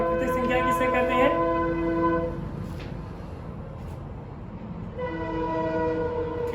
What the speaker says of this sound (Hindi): ट्रेन जा रही है, जाने दीजिए।